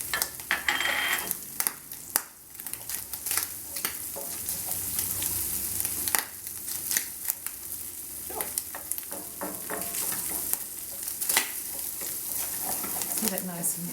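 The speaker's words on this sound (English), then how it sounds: "Add our garlic." Garlic frying in a pan for duck liver pâté, a steady close sizzle with crackling pops and stirring scrapes running throughout.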